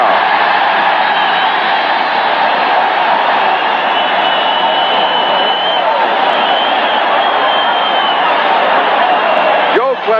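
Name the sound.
football stadium crowd cheering a sack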